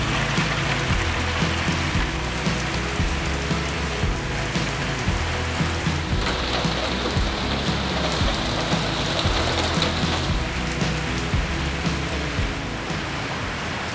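Steady rain patters on the roof and sides of a van under dark skies, a dense, even wash of drops that holds at a constant level throughout, with no voices.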